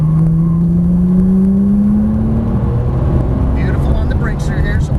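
Porsche 997 Turbo on a race track: a loud engine drone rising steadily in pitch as the car accelerates out of a corner, with an instructor's voice talking over it throughout.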